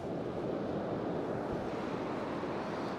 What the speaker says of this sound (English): I'm gonna try and get one of those little waves as it's breaking